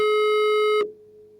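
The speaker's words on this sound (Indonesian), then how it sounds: "teleponnya berdering" A steady electronic telephone tone heard over a radio phone call holds loud and even, then cuts off abruptly, leaving a faint low hum.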